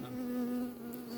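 Honeybees buzz at a beehive, a steady, close drone with a clear hum, brief and unbroken.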